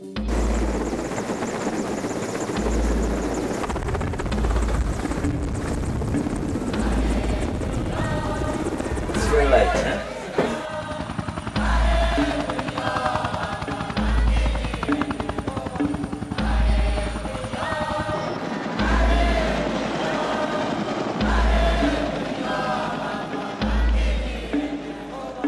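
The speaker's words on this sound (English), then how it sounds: "we still have a helicopter ride" Helicopter rotor and turbine noise fills the ride from start to finish, a loud steady drone with a rhythmic low beating of the blades and some muffled chatter inside the cabin.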